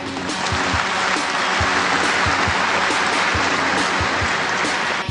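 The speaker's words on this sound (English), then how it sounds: "I request all the audience to give him a big clap." Big clap from a lecture audience honoring Zakir Naik, a dense, steady wash of hand claps filling the whole stretch, loud and continuous with no break.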